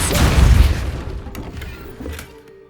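A Depulso spell cast in Hogwarts Legacy lands as a loud booming thump with a burst of energy, then fades into lighter clattering and ringing debris over the following couple of seconds.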